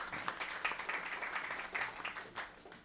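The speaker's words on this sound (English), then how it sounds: "Give them a big hand of applause." Audience clapping at a jazz history talk, a brief burst of many hands with a few sharper individual claps standing out, fairly even in loudness throughout.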